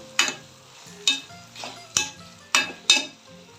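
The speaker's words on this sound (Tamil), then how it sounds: "தக்காளியை சேர்த்து நல்லா வதக்கிடுவோம்" Tomatoes sizzle in a pan while a utensil stirs and scrapes, sharp clinks landing about every half second over a soft frying hiss.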